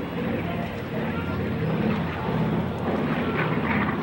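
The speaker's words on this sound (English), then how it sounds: "FIFI, the B-29." Boeing B-29 Superfortress bomber flying past at an air show: a steady, heavy drone of piston engines and propellers, loud and continuous, with a crowd and talk faint beneath.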